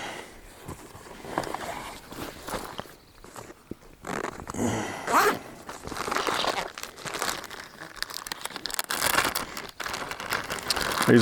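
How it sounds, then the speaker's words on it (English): A plastic bag is crinkled and crumpled by hand outdoors in the woods, close and continuous, its rustling rising and falling in uneven bursts with no talk. "I'm gonna switch to a plastic bag here."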